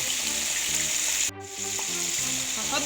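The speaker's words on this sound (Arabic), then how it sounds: "جبت طاسه وحطيت فيها زبده وحطيت فيها زيت عشان الزبده ما تتحرقش" Butter and oil sizzle together in a frying pan in a steady, close hiss, with a brief dip in the middle before the frying noise comes back at full strength.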